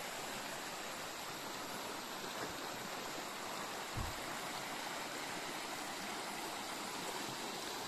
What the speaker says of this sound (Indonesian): Ya inilah sungainya, Sungai Batu Ampar.